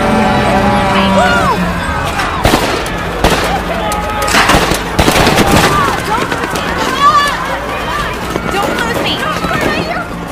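Gunfire rings out in a film battle with rebels, with sharp shots and scattered bursts of varying loudness under a narrating voice that speaks throughout.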